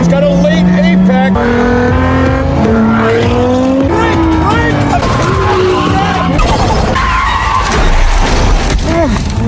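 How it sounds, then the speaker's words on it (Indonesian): A race car on a track skids out of control, tyres squealing in rising and falling howls before it crashes into the barrier, with engine roar and a voice talking over it. "mobil Jen pun tak terkendali dan menabrak pembatas trek"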